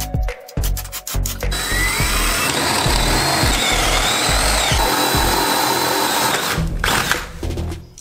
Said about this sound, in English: Now I'll go back, put some more screws in the stud,